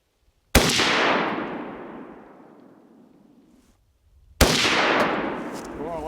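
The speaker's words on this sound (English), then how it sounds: "let's get a couple shots in." Two loud rifle shots fired outdoors at a coffee cup target in the wilderness near the Arctic Circle, each a sharp crack followed by a long rolling echo that fades over several seconds.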